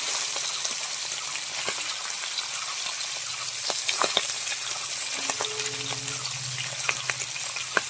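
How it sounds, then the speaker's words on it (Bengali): Fish heads fry in hot oil, crisping to a deep red for a fish-head muri ghonto, giving a steady close sizzle with scattered pops and crackles and a low stirring rumble underneath. "মাথাগুলো আমি ভালো করে কড়া করে ভেজে নেব"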